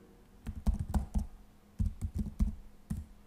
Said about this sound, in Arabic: نكتب الإيميل الخاص بالأدمن